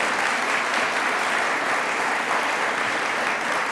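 Steady, full audience applause for Amy Poehler in Miami, a thick continuous roar of many hands clapping at even loudness throughout.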